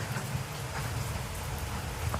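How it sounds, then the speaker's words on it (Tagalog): Heavy rain from Typhoon Crising pours down steadily, a dense, even hiss of drops drumming on surfaces close by, with no voices over it. "Kasi dito malakas ang ulan eh."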